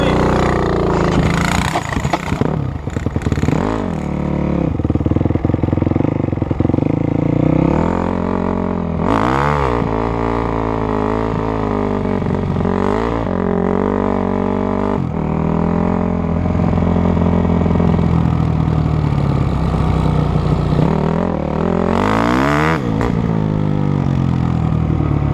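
Honda CRF250 dirt bike engine while riding, loud and close, droning steadily with repeated rising revs and gear shifts and brief surges of acceleration throughout.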